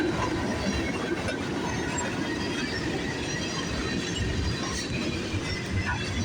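A CN freight train rolls past the Sarnia VIA station in Sarnia, Ontario, a close, steady rumble of wheels and rail noise with faint squeals and clatter, mixed with strong wind buffeting.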